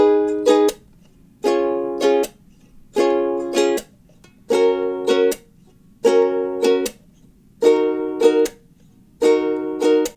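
A ukulele strums the chord progression of a song with no melody: repeated short bursts of bright chords in an even, clipped pattern with brief silent gaps, close and clear.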